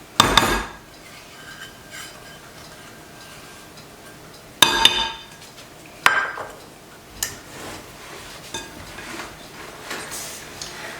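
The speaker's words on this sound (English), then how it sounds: "So we want to stir in as much of this remaining flour as we can get." A spoon clanks and scrapes against a bowl while remaining flour is stirred into cake batter: three sharp knocks stand out among quieter, irregular scraping strokes, with no one talking.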